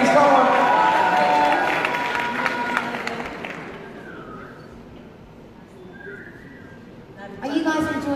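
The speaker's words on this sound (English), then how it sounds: "Can we give a top five a massive round of applause" Applause and cheering from a beauty pageant audience at Miss Ghana UK 2018 is loud at first, then fades into quiet crowd noise before a brief burst of clapping returns at the end.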